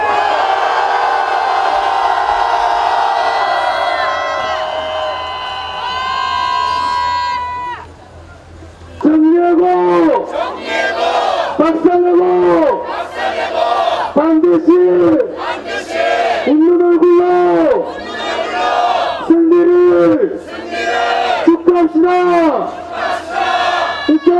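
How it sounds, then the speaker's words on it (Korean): A protest crowd gathered below a shipyard crane raises a loud victory cheer in repeated rhythmic bursts of shouting, each surge followed by a brief dip, after a speaker addresses them over a sustained hum. "우리 승리의 함성을 날려오시다. 함성을 발사!"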